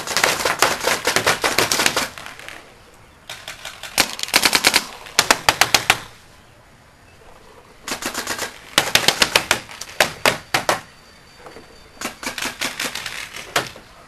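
Paintball markers, including a Geo 3.5, fire during an outdoor capture the flag game at Combat Houston. Loud, rapid bursts of snapping shots come in several separate volleys with short, quieter pauses between them.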